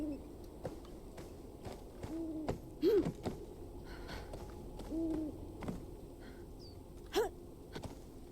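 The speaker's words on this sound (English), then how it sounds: "Perching owl? That fucker makes noise?" A perching owl in a video game gives several soft, low hoots spread across the clip, set over a steady ambient game hum with faint ticking clicks and no talking.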